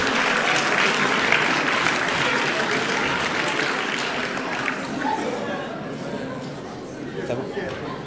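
A crowd applauds two French champions honored on stage at a local ceremony in Soustons, with dense sustained clapping that gradually eases while chatter runs beneath it.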